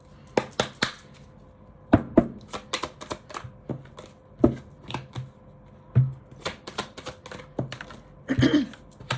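Tarot cards being shuffled by hand up close, quick bursts of riffling and flicking at an irregular pace, with short pauses between, with no voices.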